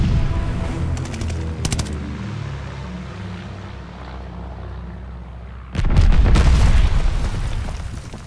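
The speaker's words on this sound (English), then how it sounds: "Teammate called a bombing run." A called-in bombing run in a video game brings heavy booming explosions with bursts of rapid gunfire over a low rumbling background. Midway through, a louder, dense wave of blasts and shots hits close.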